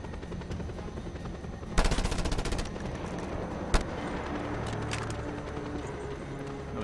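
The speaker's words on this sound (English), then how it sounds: "He's shooting me." Enemy gunfire in the video game Just Cause 2, a rapid rattling burst of shots followed by a single sharp crack, over a constant droning engine hum.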